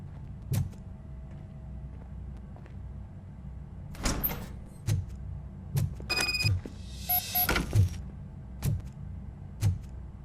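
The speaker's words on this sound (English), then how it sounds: "Now let me get that door open for you." A door is opened in the Robocop Rogue City video game, heard as a mechanical creak and sliding whir with metallic clanks, set among regular heavy footstep thuds.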